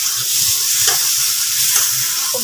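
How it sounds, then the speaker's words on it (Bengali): Spices sautéing with taro leaves and four very hot green chillies in a pan, making a loud, dense, steady sizzle with occasional soft stirring scrapes and no voices. "ভালো করে কিন্তু মশলাটাকে কষিয়ে নিতে হবে।"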